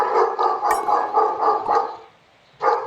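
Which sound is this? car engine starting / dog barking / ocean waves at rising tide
dog barking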